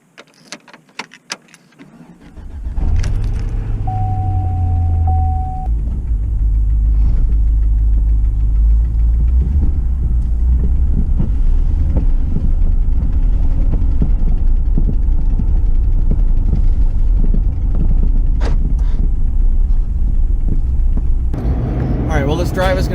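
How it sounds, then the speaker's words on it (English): Pickup truck engine cranks, catches and settles into a steady, loud idle with a low throbbing rumble that continues close by for the rest of the stretch. "So let's get the truck started and get on the road."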